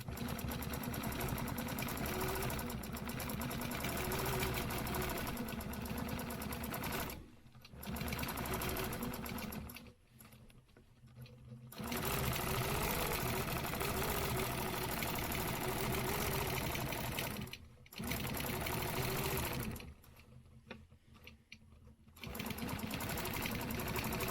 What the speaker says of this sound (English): I'm going to stitch around the outside first